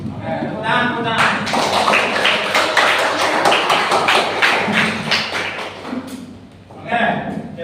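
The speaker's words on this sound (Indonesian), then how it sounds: "Oke, tepuk tangan." Schoolroom of students applauding together, a dense, sustained round of clapping with some chatter, fading out as a teacher begins talking.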